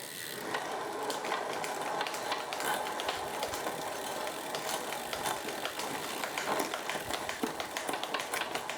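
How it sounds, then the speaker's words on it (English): Drivetrain ratcheting on a Scott Addict RC road bicycle as the cassette is run through its gears: continuous fast clicking with occasional sharper clacks, fairly faint and close. "So the rest of the cassette's shifting lovely."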